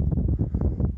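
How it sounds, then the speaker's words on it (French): Steady low mistral wind rumbling and buffeting against the microphone by a Mediterranean lagoon, continuous throughout with no voices. "il y a le vent aussi là, il y a un peu de mistral"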